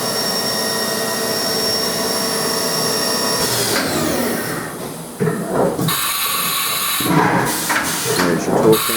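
HAAS VF-2 vertical machining center spindle running at 7,500 RPM, a steady high whine with tonal lines that shifts into rougher, fluctuating machine noise partway through, fairly close and continuous.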